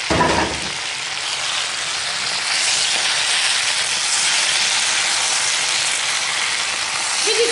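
Sliced eggplants fry in hot oil in a pan, a steady bright sizzle that hisses on without pause after a short bump at the start.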